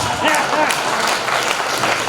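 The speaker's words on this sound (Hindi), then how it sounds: "जोरदार तालियां बादशाह प्रेमी के लिए" Crowd applause at a Hindi poetry gathering, a dense wash of clapping from many hands, steady and fairly loud, with voices mixed in underneath.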